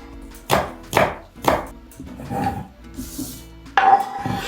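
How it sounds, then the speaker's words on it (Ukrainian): A knife chops garlic and green onion finely on what sounds like a wooden board, giving three sharp close strikes early on, then softer scraping and a final burst of cutting. "Наріжу чесничок дрібненько. І наріжу трішки зеленої цибулі."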